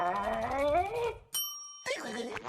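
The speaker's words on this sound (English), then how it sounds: "SpongeBob, stop ringing this bell." A bell rings in a SpongeBob SquarePants cartoon: a bright, sustained metallic ding with a ringing overtone, sounding alone for about half a second between stretches of cartoon voices and music.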